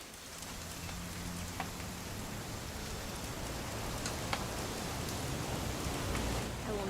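Steady rain pours down in What Remains of Edith Finch, a dense, even patter on surfaces that holds at the same level throughout, with no voices.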